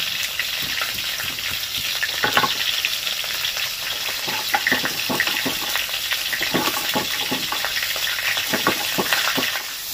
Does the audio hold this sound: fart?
no